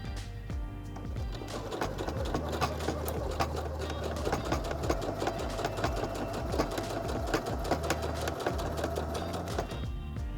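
A Singer HD6600C sewing machine stitches across a thick fabric seam, giving a steady, rapid mechanical whirr with a rhythmic needle clatter. It runs loud and unbroken for the whole stretch.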